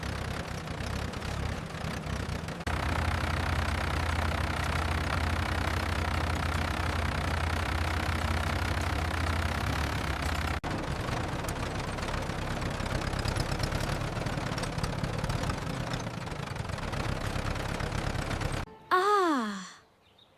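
A tractor engine runs steadily and loud, a continuous low rumbling drone with a slight knocking texture that holds for most of the stretch, then cuts off abruptly near the end, leaving a brief squeaky rising sound.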